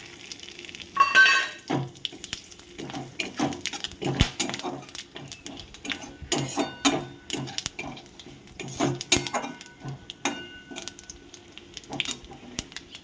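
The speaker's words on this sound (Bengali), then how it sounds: "এবার আমি এই তেলের মধ্যে ফোড়নের জন্য জিরে তারপরে এলাচ লবঙ্গ দারচিনি আর পান তেজপাতাটা দিয়ে দিচ্ছি" Whole spices (cumin, cardamom, cloves, cinnamon and bay leaf) crackle and sizzle in hot oil for a Bengali rui fish curry, with scattered pops, stirring scrapes and light clinks of utensils close by.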